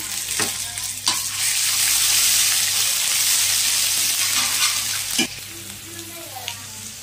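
Paneer and masala frying in a pan, a loud steady sizzle with stirring scrapes and clinks at intervals, close and continuous, with no voices.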